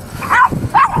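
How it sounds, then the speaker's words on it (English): An excited, high-strung dog eager to chase a passing car gives two sharp, loud yelping barks close by. "My dog's wanting to chase that car."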